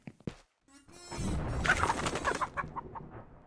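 A video game hen clucks and squawks loudly after a few short clicks, with a burst of agitated cackling that trails off; no talking.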